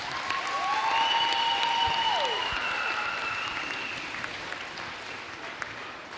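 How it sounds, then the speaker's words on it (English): An audience claps steadily at a high school volleyball game, a dense sustained round of applause with a few whistles and scattered cheers over the crowd. "Round of applause for Elodie and her parents."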